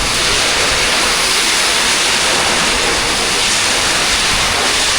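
Heavy rain pours down in a dense, loud, unbroken roar that stays steady from start to finish, with no voices over it.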